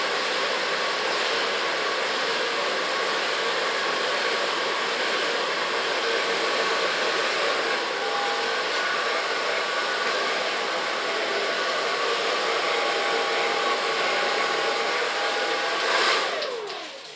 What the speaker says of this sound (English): First of all, blow drying.